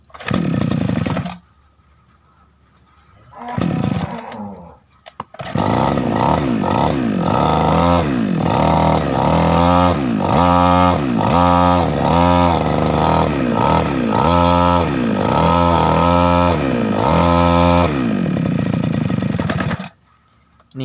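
A small two-stroke brush cutter engine that will not rev up properly sputters briefly, then starts and runs loud and raspy, its revs rising and dipping unevenly in repeated surges.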